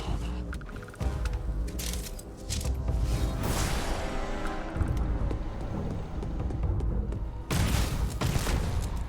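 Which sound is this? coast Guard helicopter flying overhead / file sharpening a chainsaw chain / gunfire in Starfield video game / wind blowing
gunfire in Starfield video game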